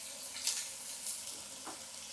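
Chopped vegetables fry quietly in a home-kitchen pan as they are stirred, soft sizzling with a few brief scraping clicks from the spoon.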